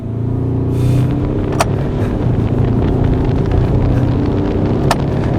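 A 2023 Ford Ranger Raptor drives fast over a rough road, giving a loud, steady cabin rumble of engine and tyre drone, with a couple of sharp knocks from the bumpy surface.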